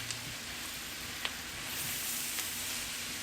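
Cabbage and meat sizzling in a pan, a steady, moderately quiet crackling hiss that runs throughout, with a few small pops and a faint stir partway through.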